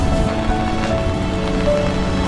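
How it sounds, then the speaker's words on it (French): Steady rain falls over a Tokyo street in the old, retro Adachi district, a dense, continuous hiss of drops on the pavement heard close and evenly, with no voices. "Regardez-moi cette scène sous la pluie"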